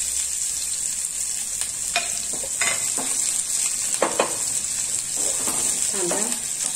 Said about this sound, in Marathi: कांदा नुसतासा भाजून घेऊया।